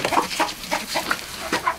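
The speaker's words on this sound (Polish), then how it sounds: "No, kurki mokre, bo na dworze pada." Rain-soaked hens cluck inside a chicken coop while rain falls outside. A close, busy run of overlapping clucks and short calls comes in quick uneven bursts, with no talking.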